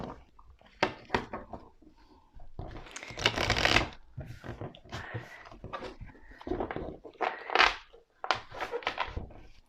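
Tarot cards are shuffled for a reading, close and crisp: repeated bursts of riffling and sliding cards in uneven clusters separated by short pauses, with a voice speaking briefly between them.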